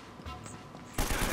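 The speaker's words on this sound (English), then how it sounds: "Now who's shooting at me?" Gunfire from the video game Uncharted: Drake's Fortune breaks out abruptly partway through, loud and dense after a quieter stretch with faint background sounds.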